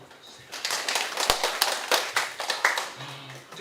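An audience at a Korean lecture event breaks into brisk, steady applause, a crowd of hands clapping together for several seconds at moderate volume.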